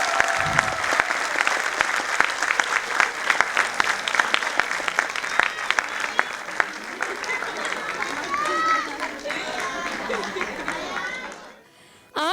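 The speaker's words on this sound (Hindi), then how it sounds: "अब तो तालियां रुकनी ही नहीं चाहिए" Parents at a school annual day applaud loudly and continuously, dense clapping mixed with crowd chatter and occasional shouts, ending abruptly.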